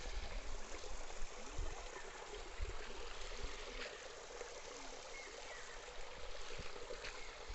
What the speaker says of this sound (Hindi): ये देखिए यहाँ पे नया झरना बनाया जा रहा है